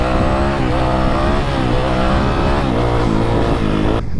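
A Yamaha YZF 250 four-stroke dirt bike engine revs hard and steadily while the bike is held up in a wheelie. The loud, buzzing engine note rises and wavers near the listener and cuts off abruptly at the end.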